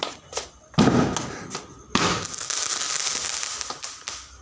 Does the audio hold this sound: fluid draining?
no